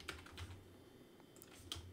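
Light typing on a computer keyboard, a run of quiet, uneven keystrokes clicking at a relaxed pace in a hushed room.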